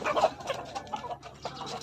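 Several large chickens, around three to four kilos each, cluck and murmur nearby in short, uneven bursts, a soft farmyard chatter with no voices.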